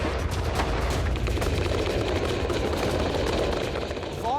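Dense, continuous barrage of gunfire and powder blasts in war-torn Afghanistan, a loud rumbling roar of shots and booms blending together without pause throughout.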